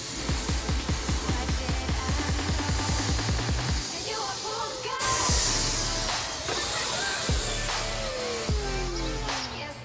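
A paint spray gun, with its nozzle partly clogged, works in an engine bay, first with rhythmic pulsing puffs, then a continuous close hiss of spraying.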